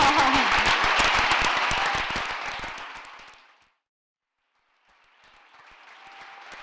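Audience applause at an animal-ethics interview event, fairly loud at first and fading out, a short silence, then softer clapping returning.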